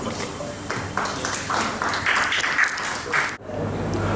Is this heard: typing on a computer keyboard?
no